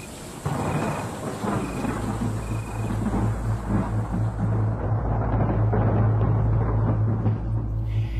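A heavy thunder rumble rolls in and builds into a sustained, loud low roar over steady rain, with a deep resonant tail continuing to the end.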